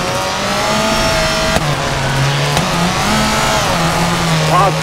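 Rally car engine on a gravel stage of Rally Argentina in the WRC 4 racing game, a loud continuous drone with rising and falling revs and gear shifts, close and sustained throughout.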